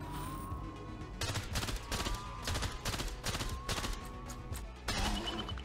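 Smart bullets fire in bursts in STRAFE, several rapid volleys of clustered shots separated by short pauses, loud and close over a steady game music drone.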